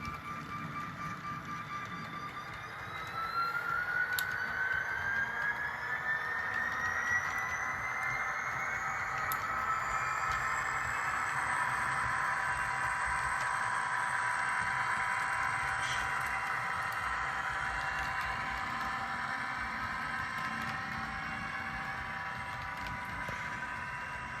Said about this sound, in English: Here's a demonstration of the dynamic brakes.